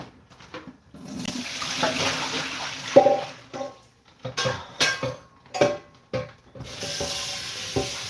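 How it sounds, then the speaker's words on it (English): Water is poured out of a cooking pan into a kitchen sink, with splashing and clattering of pans and utensils in short bursts, fairly close and with no talk over it. "Let's turn the water off on this pan here and dump this pan"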